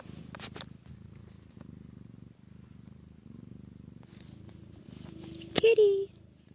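A mother cat and her kittens purr close up in a steady low rumbling rhythm of repeated breaths, ending with a short high meow-like squeak.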